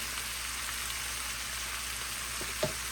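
Lamb chops and vegetables sizzle steadily in a good pot over lowered heat, a soft, even frying hiss with a few faint taps near the end.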